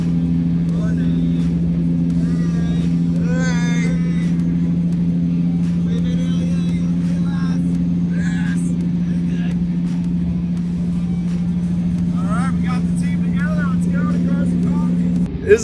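Nissan 240SX S14 driving on a cold morning road, heard from inside as a steady low engine drone with road rumble throughout, while people talk over it.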